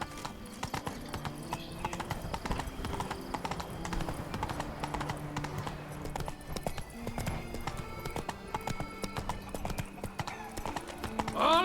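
Roach the horse gallops in The Witcher 3, a steady close clip-clop of hooves running throughout, layered with game music and a brief whinny near the end.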